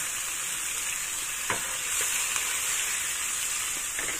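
Ginger hitting a hot frying pan with a flour mixture, a steady close sizzle with a few sharp crackles and scraping stirs, no voices.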